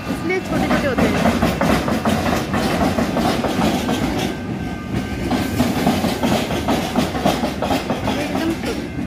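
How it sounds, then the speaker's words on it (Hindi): A small suburban commuter train in Australia rolls by with a steady rumble and rhythmic clickety-clack of wheels on rail joints, close and loud throughout, while a person talks over it. "कितनी छोटी छोटी ट्रेन होती है, बहुत ही छोटी छोटी होती है"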